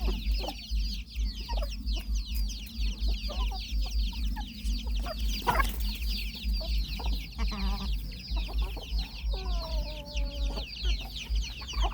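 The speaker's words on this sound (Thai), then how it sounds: "ไก่หนุ่ม" Young chickens on a farm in the evening cluck and chirp steadily and close by, with short calls repeating throughout over a constant low hum.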